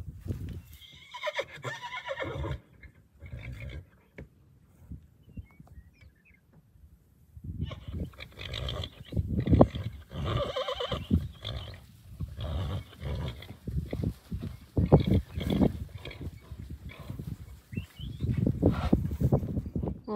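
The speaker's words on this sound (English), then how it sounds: "Well, all the horses are in." Horses at a stud farm neigh and whinny repeatedly while hooves clip-clop around them, a busy stretch of close, loud animal sound after a quieter opening.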